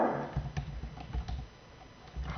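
Fingers tapping on a computer keyboard, a short run of soft, close clicks at an uneven pace, fairly quiet with no talk.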